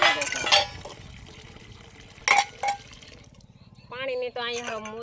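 Water runs from a tap fitted straight to a stepwell at a farm field, splashing and clinking against a metal vessel in short bursts, then a voice cuts in over the flow near the end.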